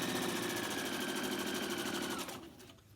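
A sewing machine runs in a fast, even clatter as it stitches the bottom of a fabric face mask, close by, then slows and stops near the end.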